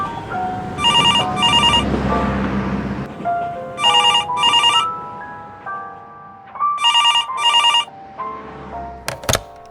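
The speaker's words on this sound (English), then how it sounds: "Ringing Ray Hill 40098." A telephone bell rings in a house, three double bursts of bright metallic ringing spaced a few seconds apart over a quiet background, ending with a couple of sharp clicks.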